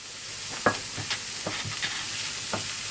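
Onion frying in a pan for chili con carne, a steady hiss of sizzling broken by a few sharp scraping stirs spaced irregularly, close and moderately loud, with no voices.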